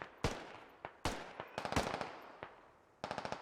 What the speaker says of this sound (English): I think that was a grenade. Grenade did pop in.